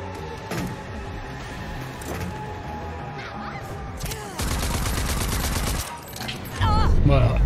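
Enemy gunfire in the shooter game Rage 2, rapid bursts of shots and sustained automatic fire building to a loud, dense barrage, with game sounds and a voice at times.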